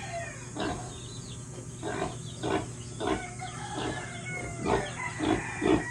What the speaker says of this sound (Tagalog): Dito yung mga alagang baboy.